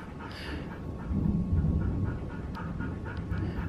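Two nervous pet dogs panting at night while a storm goes on outside, a soft continuous rapid breathing with a low rumbling background, fairly quiet and close.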